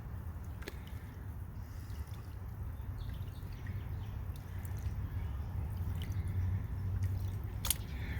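Water sloshes and squishes softly as gravel is rinsed in a gold pan, a quiet, continuous, close wet churning with occasional small drips.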